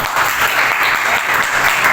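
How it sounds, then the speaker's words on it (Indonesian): Classroom applause for a student named Sandra during a physics lesson, a dense, steady patter of many hands clapping together for about two seconds with no pauses. "tepuk tangan dulu untuk Sandra"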